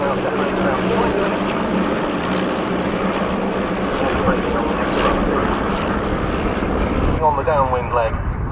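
A de Havilland DHC-1 Chipmunk propeller plane drones past at an air display, a steady engine hum under continuous commentary, with a brief warbling tone near the end.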